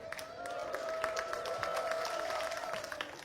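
A church congregation claps during a sermon, a moderate patter of hands with a steady tone underneath, some voices mixed in, fairly distant.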